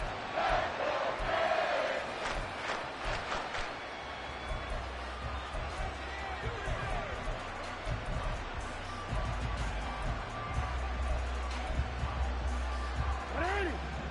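Stadium crowd noise from Madden 24, a steady broad roar with swells and cheers on a third down as fans rise to their feet, running continuously under commentary voices.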